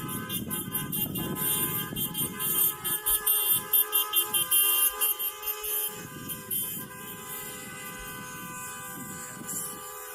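Car horns honk repeatedly in a street protest setting, several distinct toots in a rhythmic burst amid steady traffic noise, fairly loud and without speech.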